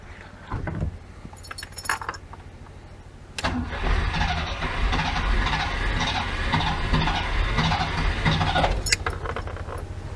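An Oltcit car engine cranks with a short clatter of keys, then fires and settles into a steady, close idle running with its carburettor top removed.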